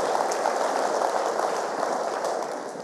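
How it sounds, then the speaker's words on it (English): Church congregation applause during a Sunday service, a dense, even wash of many hands clapping at a distance, sustained throughout and easing slightly at the end, with no voices above it. "we can give the Lord a round of applause"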